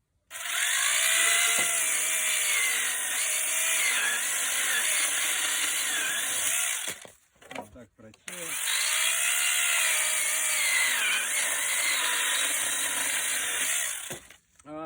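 A power saw cuts dry, hard wood in two long loud passes, each a steady high whine lasting several seconds and broken by a short pause. Nobody speaks.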